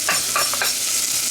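Chopped onion dropped into hot extra virgin olive oil in a pan, bursting into a loud close sizzle with a few quick crackling spurts, no talking.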